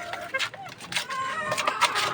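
Farm chickens sand bathing, giving soft intermittent clucks and rustling close by, with someone talking over them.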